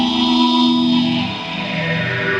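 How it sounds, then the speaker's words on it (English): Modal Argon 8 synthesizer played through its reverb V2 effect, a dense, sustained pad-like tone with a long washy tail that stays loud and shimmering throughout. "Now notice this reverb is louder"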